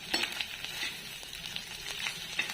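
Onion, spices, egg, garlic and coconut stir-fried in a pan for village-style egg bhurji, a soft steady sizzle with several quick scraping stirs of a spoon, close and fairly quiet.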